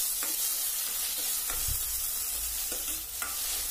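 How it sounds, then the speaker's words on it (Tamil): Chopped tomato and green chilli sauté in a pan, a steady low sizzle with occasional scraping stirs and a dull knock of the utensil against the pan. "தக்காளி நல்லா ஒரு 5 மினிட்ஸ் வதக்கி எடுத்துக்கலாம்."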